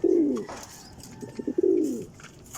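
Pigeons coo in two low, rolling phrases at close range, the second after a short gap with a few soft knocks between, with faint bird chirps in the background.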